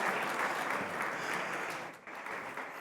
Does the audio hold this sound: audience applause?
yes